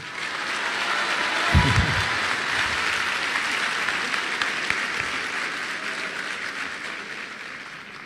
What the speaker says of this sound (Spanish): Ojalá que me aplauden así a mí después.